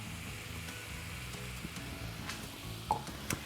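Flour stirred into melted butter in a pan gives a soft, low sizzle with a steady hiss, punctuated near the end by a few light utensil clinks, fairly quiet and without speech.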